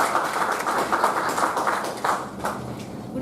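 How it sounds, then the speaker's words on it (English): An audience at a Toastmasters meeting applauds, a dense, steady patter of many hands clapping together at moderate volume for the full stretch. "Please give a warm applause to Toastmaster Kanmini."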